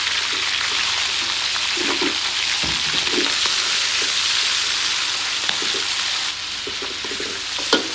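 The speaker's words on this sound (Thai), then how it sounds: "แล้วนำหนวดปลาหมึกปรุงไปทอด" Seasoned squid tentacles fry in hot oil in a pan, a steady close sizzle with light crackles and occasional stirring clinks, no talking, easing slightly near the end.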